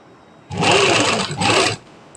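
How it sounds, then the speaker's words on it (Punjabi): A sewing machine stitches an invisible zip onto the back of a kurti in two close, loud bursts of motor whir with a short pause between them. "ਇਸ ਕਰਕੇ ਆ ਸਲਾਈ ਆਰਾਮ ਨਾਲ ਲਗਾਓ"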